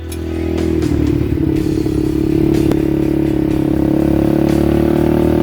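A small mini bike chopper engine, pull-started with a length of brake cable, catches and settles into a loud, steady, close-up running drone with light mechanical clatter and a brief sharp knock midway.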